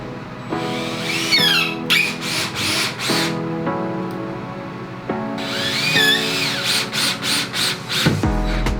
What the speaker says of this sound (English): I'm gonna screw it in there with the special backer board screws.